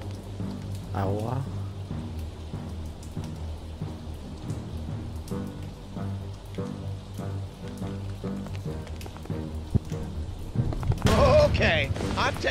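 Rain and water pattering steadily in the video game Lucius II, layered with game sounds and a few dull booms, with a louder watery surge near the end.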